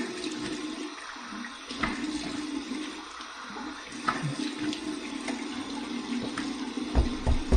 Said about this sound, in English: We're going to move it over to the cold water side and do my cold water rinse.